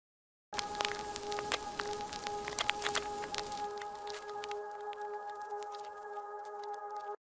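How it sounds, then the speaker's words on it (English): Irregular vinyl crackle pops and clicks over a soft, sustained synth chord in a melodic house track. The crackle thins out toward the end. "let's also add some natural sounding ambiences, like these vinyl crackles"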